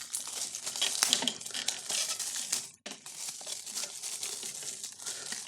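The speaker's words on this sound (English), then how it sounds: "Pull it out of its plastic." Crinkly plastic wrapping rustles and crackles as a game controller is pulled free, close and fairly quiet, with a brief pause partway before the crumpling resumes.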